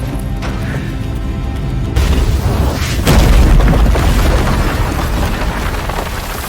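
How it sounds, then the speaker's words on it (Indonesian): A bag packed with a bomb explodes in a film scene, a loud deep boom with rumbling roar that swells after a couple of seconds and lingers as a heavy sustained blast. "tiba-tiba meledakkan sebuah tas yang berisikan bom"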